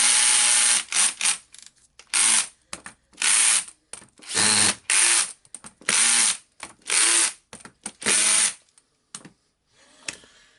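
Ratchet tightening screws on a cover while a Hilti TE 905-AVR demolition hammer is reassembled. Loud, close bursts of rapid clicking repeat with short pauses between them, fading to quieter clicks at the end.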